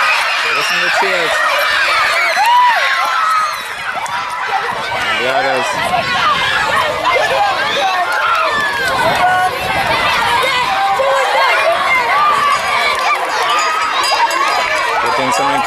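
Crowd noise and cheering at a primary school cross-country race as runners head for the finish, with excited children's shouts and chatter filling the whole stretch, close and fairly loud, while a commentator talks over it.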